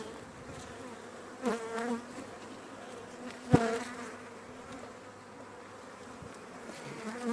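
Dense, steady buzzing of honeybees swarming around open hives at an apiary during a honey harvest, continuous throughout with a couple of brief louder knocks or bumps.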